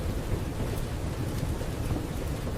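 Steady, endless rain pours down in a dense, even hiss, with a low rumble of thunder rolling underneath throughout; the storm sound stays constant and unbroken, with no voices present.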